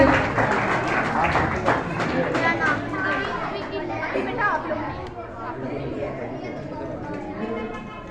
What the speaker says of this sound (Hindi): जोरदार तालियां बच्चों के लिए बजाइएगा।